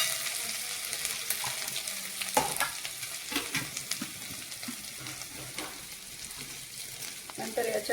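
Ginger-garlic paste frying in hot oil with asafoetida and cumin, a steady close sizzle with occasional stirring scrapes, and a voice speaking faintly underneath.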